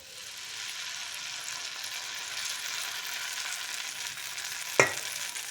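Kerala-style velleyappam batter sizzles in a hot pan with a steady, soft hiss of frying, and a single sharp clink sounds near the end.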